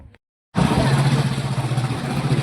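A motorcycle starts off after a short silence, its engine rising to a steady, close, pulsing drone as it rides away toward school.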